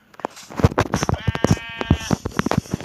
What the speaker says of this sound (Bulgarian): Добре, още една овца.